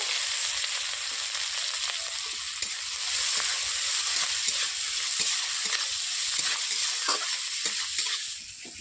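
Onions sizzle and fry steadily in a pan with cinnamon, cardamom, cloves, slit green chillies and five-spice for a Bengali eggplant dish, with occasional stirring scrapes over a continuous close hiss and no talking.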